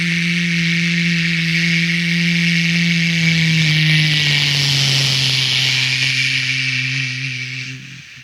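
A Korean comedian imitates a passing car with his voice, a sustained buzzing hum that holds steady then drops in pitch as it fades away over several seconds, alone without talk.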